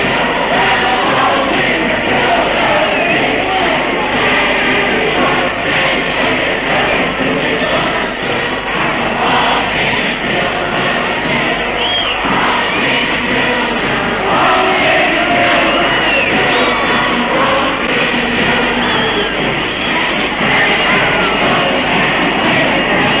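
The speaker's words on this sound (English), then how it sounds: "here's the crowd singing Waltzing Matilda" A large 1951 Melbourne crowd singing Waltzing Matilda together, heard as a loud, dense, continuous roar of massed voices with no clear melody, sustained throughout as if captured from a distance.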